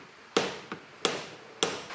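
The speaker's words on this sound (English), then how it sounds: "This is a rubber hammer, by the way." Three sharp knocks from a rubber hammer with a softer tap between, irregularly spaced, close up and fairly loud, each with a dull, blunt thud, on a vintage Honda MR50 Elsinore engine cover.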